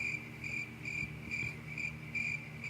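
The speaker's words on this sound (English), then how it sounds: "Now it's fucking crickets." Crickets chirp in steady, evenly spaced pulsing trills against a quiet night-time background, faint and continuous with no voices.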